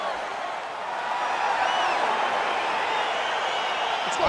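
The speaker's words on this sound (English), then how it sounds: "crowd getting excited as this fight gets underway" Arena crowd cheering at a UFC 4 video game fight, a steady dense roar of many voices holding loud throughout with a slight swell partway in.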